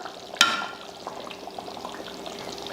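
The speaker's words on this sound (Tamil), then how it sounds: "நான் ஒரு ரெண்டு முட்டை எடுத்திருக்கேன் அதை ஊற்றிடலாம்" Beaten eggs are poured into a simmering egg curry: a short, sharp splash-like onset followed by a soft, low pouring and bubbling murmur, quiet and close with no talk.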